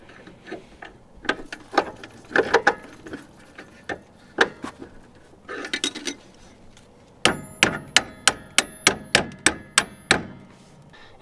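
Sharp metallic hammer blows drive a punch against a rusted suspension bolt on a third-generation CR-V, first in irregular clusters, then a rapid steady run of ringing strikes close by.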